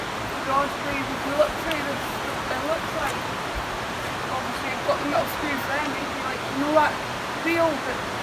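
River water flowing through Roslin Glen makes a steady rushing wash, loud and continuous, with faint voices in the background.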